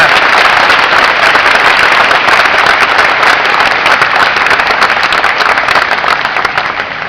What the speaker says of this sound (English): you all, in my opinion, deserve a resounding round of applause